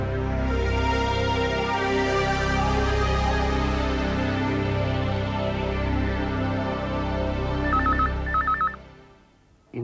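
A telephone rings on a call to Shukla, a steady electronic ringing tone with dense tonal layers, sustained loud for several seconds before cutting off abruptly near the end.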